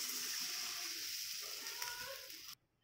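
Water poured into a hot pan of fried spices and green chili while making dhokla sets off a loud, close sizzle that hisses steadily, then cuts off abruptly near the end.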